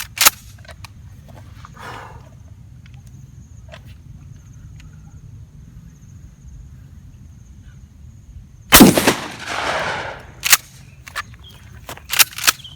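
An air rifle firing Thai Arms slug pellets at targets 60 to 75 metres away: a few sharp cracks stand out against a quiet outdoor background, including one loud shot followed by a short rustling clatter, with faint scattered clicks.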